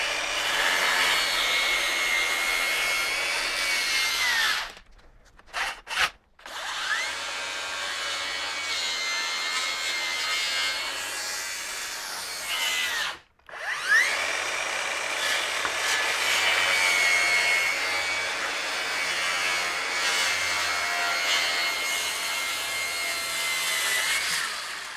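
RIDGID R8658 18V brushless rear handle circular saw rips through lumber, a loud, close, sustained whine broken by two short pauses where the cut stops and restarts.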